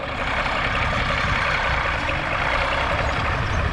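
An early 1970s Case 970 tractor with a 405 six-cylinder engine runs steadily nearby, a loud, continuous low rumble and mechanical roar with no pauses and no speech.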